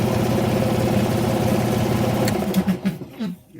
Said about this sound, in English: Air compressor turns off,